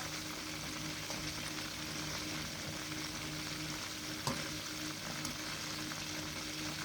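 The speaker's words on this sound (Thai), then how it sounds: "เราจะทอดไว้เรื่อย ๆ นะคะ ทอดแบบนี้นะคะไว้เรื่อยๆนะคะ" Food deep-frying in hot oil for delivery orders, a steady dense sizzle with faint occasional clicks and stirring, continuous and evenly loud, no talking.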